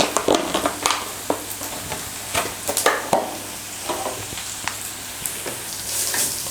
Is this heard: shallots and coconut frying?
yes